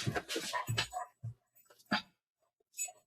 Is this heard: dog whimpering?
yes